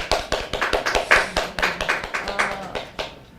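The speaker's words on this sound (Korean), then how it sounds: "오늘 참가한 학생 모두에게 정말 큰 박수를 보내고 싶습니다" At a students' speaking contest, a small audience claps in a fast, distinct rhythm, with individual sharp hand claps standing out close to the microphone before the clapping tapers off.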